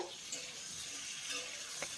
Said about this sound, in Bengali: এখন শিমটাকে দিয়েও 2 মিনিট এইভাবেই ভেজে নিতে হবে।